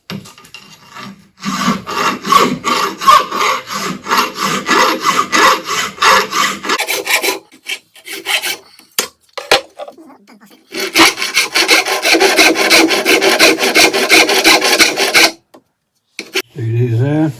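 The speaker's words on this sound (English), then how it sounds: "It's an old file, but it's a proper aluminium file. Goes real quick." An old aluminium file is worked across a metal part for a vintage supercharged Triumph drag bike, producing loud, close rasping strokes in long rhythmic bursts separated by short pauses.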